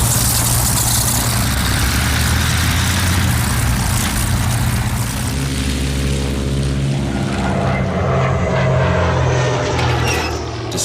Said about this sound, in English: These planes are the world's first strategic bombers.